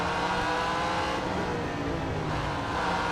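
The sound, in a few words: car engine revving in Real Racing 3 video game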